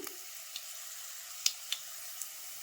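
Mustard seeds and chana dal fry in hot oil with a quiet, steady sizzle and a few sharp pops and crackles scattered through it.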